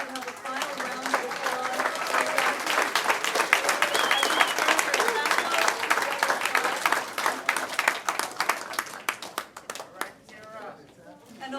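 An audience at a board of education meeting gives a long round of dense clapping that fills the room. It tapers off near the end into scattered claps, with voices mixed in.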